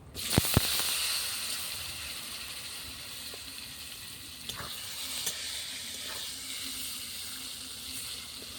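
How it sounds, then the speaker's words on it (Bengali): Pointed gourd pieces fry in oil over a clay stove, sending up a continuous soft sizzle and hiss with a few scraping stirs near the start, no voices. "পটলগুলো ভেজে নেব।"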